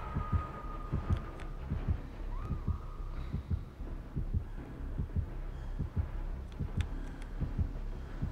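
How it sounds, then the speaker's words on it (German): The killer's heartbeat warning in Dead by Daylight thumps in a steady, quiet rhythm of low double beats under a faint background hum. "Ich habe Herzschlag."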